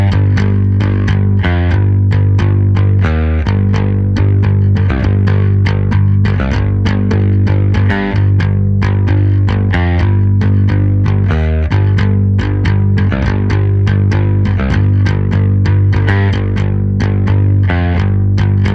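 Distorted, effects-laden electric bass riff from the breakdown of a song, a heavy, steady repeating pattern played loud and alone with no talking.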